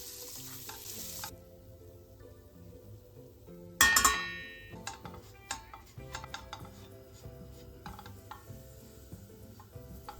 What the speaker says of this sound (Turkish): 1 çay bardağı irmik ve 1 yemek kaşığı unu ekleyip yaklaşık 5 dakika kavuruyoruz